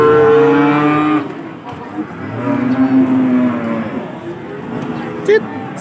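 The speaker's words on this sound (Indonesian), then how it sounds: "Sapi-sapi pegon berjejer rapi" Cattle low at the Pon livestock market in Blora, with long, deep moos overlapping one another amid a busy background of crowd murmur and engine noise.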